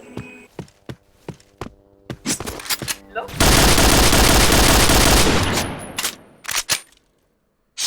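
Gunfire in the shooter game Point Blank: scattered single shots, then a dense sustained automatic burst, followed by more sporadic loud shots before a short silence.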